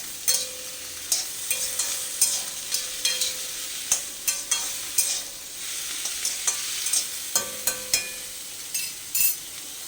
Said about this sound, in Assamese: আৰু এনেকৈ ভাজি পেলাই মই বনাই খাওঁ